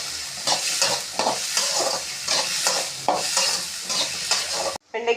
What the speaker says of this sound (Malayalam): വെണ്ടയ്ക്ക, തക്കാളി പിന്നെ ഇട്ടാൽ നന്നായി വഴറ്റിയെടുക്കണം.